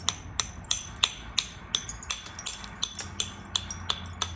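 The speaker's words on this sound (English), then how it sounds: "I'm abrading quite heavily" A flint point is abraded along its edge during knapping, giving a series of about a dozen sharp, gritty scraping strokes in an even rhythm, close and clear with no talk.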